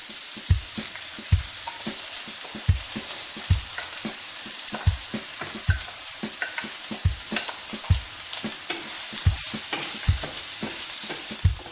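Chopped onion sizzles in hot oil in a pan for an Indian peas-and-cheese dish, a constant bright hiss broken by regular knocking thumps from a spoon stirring, close and steady.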